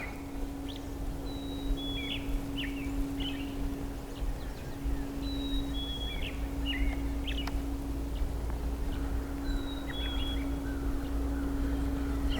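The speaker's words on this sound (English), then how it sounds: "right at the top of that tree up there is a robin" A robin sings from the top of a tree along the Ice Age Trail in spring, giving three short, distant chirping phrases spaced across the clip over a steady low hum and faint outdoor background.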